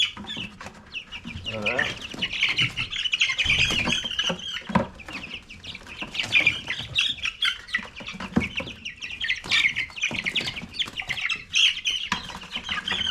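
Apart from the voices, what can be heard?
meat chickens clucking while being handled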